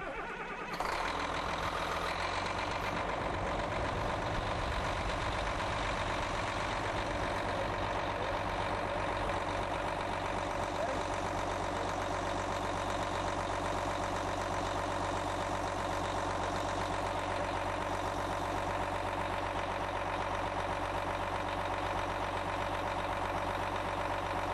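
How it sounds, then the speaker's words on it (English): A CAT heavy machine's diesel engine cranks and catches, then settles into a steady, loud, continuous idle with a low rumbling throb that lasts throughout, with no talking. "I'm going to have my assistant go ahead and start the machine up for us now."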